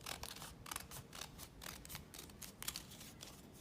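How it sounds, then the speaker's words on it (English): Scissors snip through paper while a flare skirt pattern is cut out freehand, making a quiet, steady run of rapid crisp cuts with no voices. "you now cut it out"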